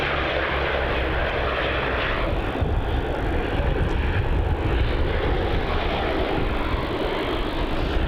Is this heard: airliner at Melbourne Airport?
yes